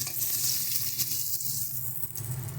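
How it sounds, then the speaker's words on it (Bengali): Rohu fish pieces frying in hot oil for a cauliflower and lentil-dumpling curry, giving a steady, close, dense sizzle that stays level throughout with no voices. "এবার আমরা মাছের যে মাথা দুটো আছে সেই দুটো একটু ভেজে নিচ্ছি"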